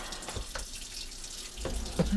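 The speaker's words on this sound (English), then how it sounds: "giving the steak a chill under running water" Tap water runs over a steak to chill it, a soft, close splashing stream with irregular gushes and drips, fairly faint and steady throughout.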